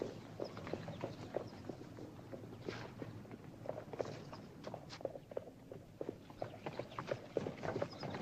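Horses walk along in a western town scene, hooves clip-clopping in an uneven, steady rhythm at moderate distance against a busy background, with no talk.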